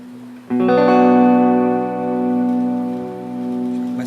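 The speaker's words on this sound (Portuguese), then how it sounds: "Agora vamos para finalizar o shimmer referente ao reverb ambience." Guitar played through a Lightyear Bffx 2 shimmer reverb pedal with the mix turned up. A chord strikes sharply, then rings out in a bright, shimmering wash of sustained tones that swells and slowly fades.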